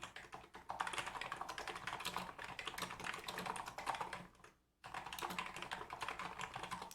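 Continuous typing on a computer keyboard while entering text into a Notion page, rapid clicking keystrokes close and steady, with a brief pause before the typing resumes.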